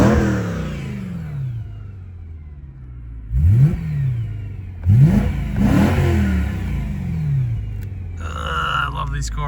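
2008 BMW E92 M3 V8 revving in a public park: sharp throttle blips rise and fall several times over an idling engine, loud and close, while someone talks over part of it.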